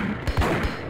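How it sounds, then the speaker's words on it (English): A grenade explosion in the video game Max Payne: a short cluster of loud, sharp blasts and crashing bursts, close and punchy, over in under a second. "I want to try the grenade"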